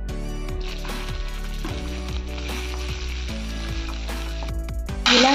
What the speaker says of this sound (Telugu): ఇలా పచ్చిమిరపకాయలను ఎండుమిరపకాయలను ఇలా వేయించుకోవాలి ఫ్రెండ్స్